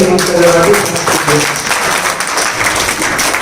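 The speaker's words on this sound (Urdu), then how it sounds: "اس شعر پر زوردار تالیاں بجنی چاہیے" Audience applause at an Urdu poetry recitation (mushaira) honoring Yaqeen Faizabadi, following a couplet; a steady, dense wash of clapping under a voice that continues speaking throughout.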